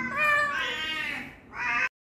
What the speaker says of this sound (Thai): สุดหล่อหูพับนี่ของหมอกวาง